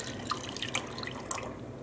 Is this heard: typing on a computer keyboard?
no